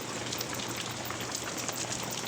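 Steady heavy rain patters densely and evenly on a surface, a continuous hiss without any voices.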